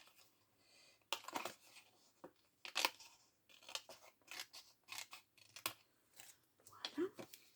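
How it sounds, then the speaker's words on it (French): Scissors snipping away the excess of Action-brand washi tape at close range, with a run of quiet, repeated cuts and paper rustles under soft, intermittent speech. "Et je vais venir découper le surplus."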